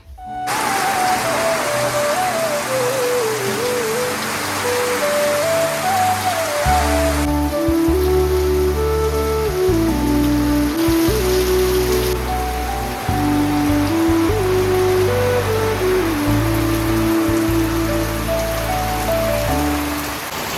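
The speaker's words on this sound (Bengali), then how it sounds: "মারাত্মক পরিমাণে বৃষ্টি শুরু হয়েছে, আর তার সাথে একটা কেমন দমকা হাওয়াও আছে।" Heavy rain with gusty wind pours down in a continuous loud roar, with a sustained tonal hum running under the downpour.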